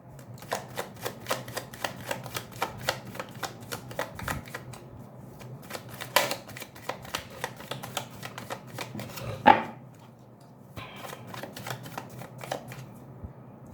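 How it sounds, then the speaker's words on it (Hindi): Tarot cards being shuffled by hand, a long run of rapid crisp riffling clicks in bursts with short pauses between, close and fairly quiet, with no talk. "I would like to shuffle this cards. ये टैरो कार्ड्स हम देख लेते हैं"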